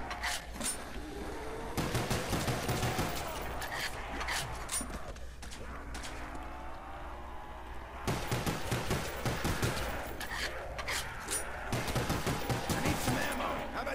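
Pistol fire rings out on the Ascension zombies map in Call of Duty, sharp shots in quick bursts with short pauses between volleys, loud and close over game noise.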